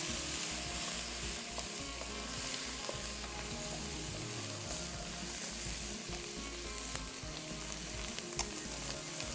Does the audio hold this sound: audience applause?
no